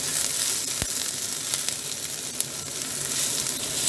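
Onions sizzle steadily in a pan while frying, a soft continuous crackle with an occasional sharp pop, fairly quiet and with no talking.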